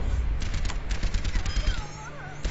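Rapid machine gun turret fire in Overwatch rattles out as a dense stream of close, loud shots, with a voice talking over it.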